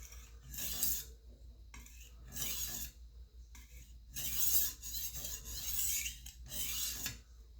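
A chef's knife is drawn across a sharpening stone in repeated rasping strokes, five or six bursts of gritty scraping with short pauses between them, close and moderately loud, with no voices.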